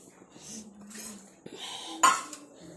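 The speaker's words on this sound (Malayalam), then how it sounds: "പാത്രം കഴുകണം" Dishes and pots being washed at home: a few scattered clinks and clatters of kitchenware, quiet and close, with one sharper knock partway through.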